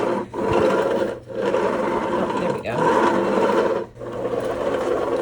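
Yocada carpet sweeper rolls back and forth over a floor to pick up a gum wrapper, giving a close, continuous whirring rasp broken by short pauses as the strokes change direction.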